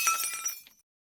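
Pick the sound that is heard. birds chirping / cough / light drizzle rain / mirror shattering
mirror shattering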